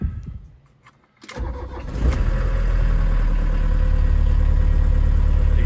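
A warm 1981 Volkswagen Rabbit Caddy diesel with a five-speed cranks briefly and fires up quickly. It then settles into a loud, steady, close idle clatter.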